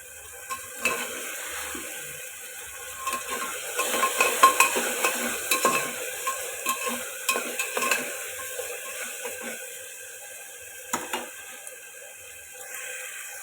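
Spice paste being stir-fried in a pan for mutton curry, with soft sizzling and intermittent scraping and stirring strokes, moderately close and without talk.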